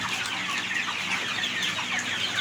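Hens clucking steadily up close, a busy flock chattering with overlapping soft calls and no talking.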